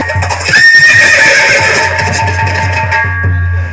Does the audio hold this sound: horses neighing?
yes